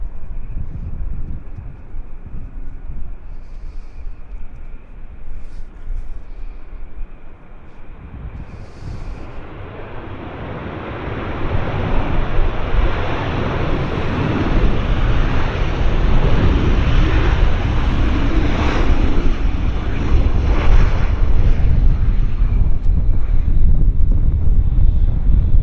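A United Airlines airplane arriving at Vancouver Airport swells from a distant wind-like hiss into a loud, broad jet roar that builds and holds steady over the final half, with no talking.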